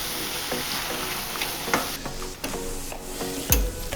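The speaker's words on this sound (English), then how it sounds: "while it's cooking, we can see the juice coming out of the meat, blending in with all the ingredients" Ragù bolognese meat sauce bubbles and sizzles in a pan, a close, moderate hiss broken by scrapes and knocks of a utensil stirring through the meat, with no voices.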